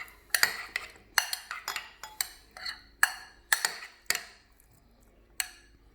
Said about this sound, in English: And you want to mix that up.